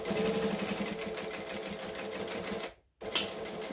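A sewing machine stitches in a steady rapid rhythm while backstitching a seam, running loud and close for nearly three seconds, stopping briefly, then starting again.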